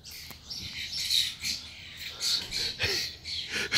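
Pigeons scuffling on a Detroit street give bursts of flapping wings and short scratchy squawks, irregular and fairly close, with quiet gaps between the bursts.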